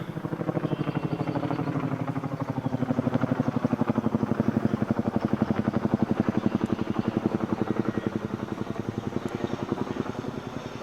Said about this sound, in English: That's a massive, like, army or military helicopter with like two propellers front and back.